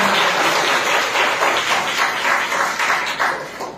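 Audience applause from a church congregation at a spiritual sermon, a steady wash of many hands clapping together, loud and close, fading slightly at the end.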